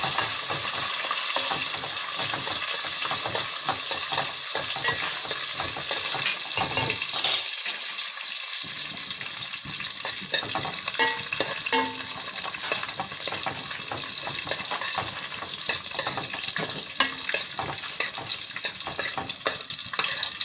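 Cashews and raisins frying in ghee for jackfruit payasam, a loud continuous sizzle and bubbling with frequent stirring scrapes; a brief dip partway through, then the crackle resumes steadily.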